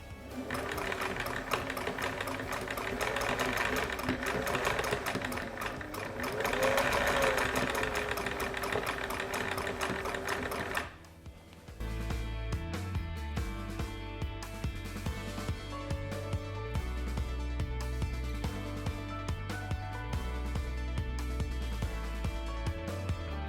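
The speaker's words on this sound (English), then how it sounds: "Oh, she's stitching." A sewing machine stitches steadily, first under a busy tonal backdrop, then in a rhythmic mechanical pulse of low repeating thumps that runs nearly alone to the end.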